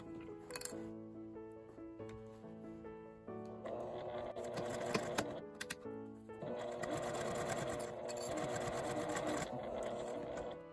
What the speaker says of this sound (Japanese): 最初に縫うときはあとは留めずに合わせながら縫います。